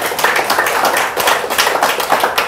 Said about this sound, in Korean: 제 말에 맞은 박수 한번 쳐주세요.